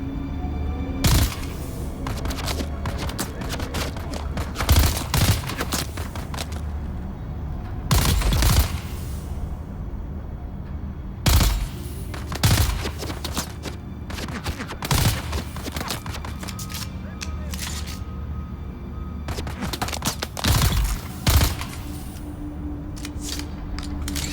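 Rifle shots ring out in the desert-survival game Dune Awakening, sharp cracks landing singly and in short bursts scattered across a steady background rumble, loud and close, with no one speaking.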